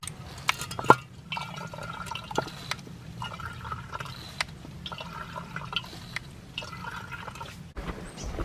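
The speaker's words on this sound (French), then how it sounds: "Donc je vais faire le plein dans la mare avec mon filtre à eau." Water trickling and dripping while being drawn from a mountain pond through a portable water filter, in faint, intermittent splashes and gurgles close by, with no talking.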